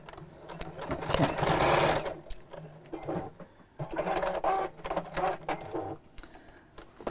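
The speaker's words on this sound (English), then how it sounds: "then we'll just sew across the top like this" A sewing machine stitches across the top of fabric lining pieces for a door storage pouch, running close by in a couple of steady bursts with quiet pauses between them.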